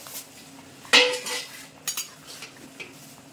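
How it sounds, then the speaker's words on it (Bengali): Fried potatoes tipped into a pot of Bengali-style mutton curry, one clattering metallic clink of a utensil against the pot followed by a few softer scrapes and taps, close with no speech. "এবার ভেজে রাখা আলু আমি দিয়ে দেবো।"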